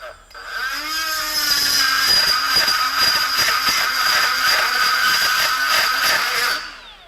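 A Milwaukee M12 FUEL cordless straight die grinder fitted with a burr cuts aluminum: a loud high-pitched whine spins up, then holds with rhythmic grinding bursts as the burr bites the metal, winding down at the end.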